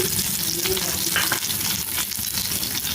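Chickpeas fry in a pan as sliced onions are added, giving a steady, close, dense sizzle with scraping stirs and soft clatter throughout, no voices.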